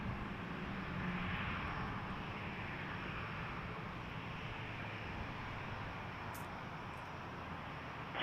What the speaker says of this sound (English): Special Condor coming into frame in a moment